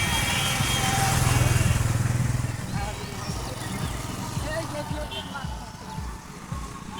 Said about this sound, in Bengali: এই যে আমাদের যানবাহন, অনেক মানুষের সমাগম